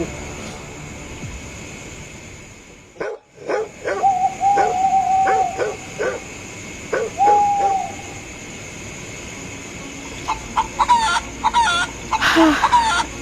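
A rooster crows twice at night in long, drawn-out calls amid clucking and other fowl noises, over a steady background hum, fairly close and loud.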